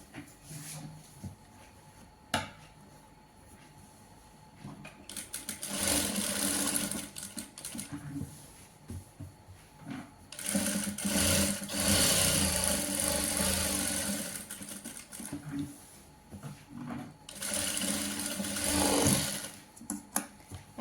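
A sewing machine stitches a pocket onto palazzo trousers in three long, loud whirring runs separated by quiet pauses with small handling clicks.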